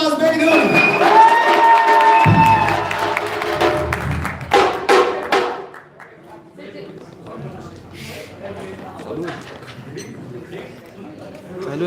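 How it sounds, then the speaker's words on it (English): Crowd cheering and applause fill a large convention-center hall during the opening ceremony of the US Nationals, loud and sustained at first, then fading into a murmur of crowd chatter. "With a huge round of applause, Baydhund."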